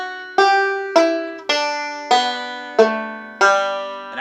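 Banjo picking measure 3 of the bluegrass tune Blackberry Blossom, bright twangy plucked notes ringing out at an even moderate pace, close and solo with no talking.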